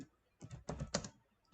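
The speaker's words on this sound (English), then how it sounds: "here you have to just write the backtrack code" Java code is typed on a computer keyboard: a quick cluster of sharp key clicks in a short burst, close and fairly quiet, with no voice.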